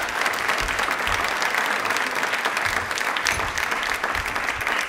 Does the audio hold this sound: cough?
no